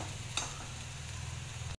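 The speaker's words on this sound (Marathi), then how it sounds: "मी सर्व व्यवस्थित फिरवून घेते." A spiced dish with coriander is stirred in a hot pan, giving a close, steady sizzle with one sharp scrape of the spoon near the start, and no voices.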